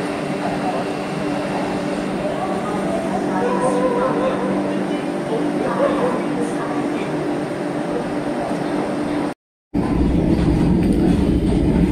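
Steady rumble of a Vande Bharat passenger train running on rails on the Konkan Railway, continuous and fairly loud, with a brief cut to silence near the end.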